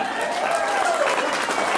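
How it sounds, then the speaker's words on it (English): A dense, steady wash of audience applause at a comedy hypnosis show, many hands clapping together, with a faint voice in the crowd. "Give him a big round of applause."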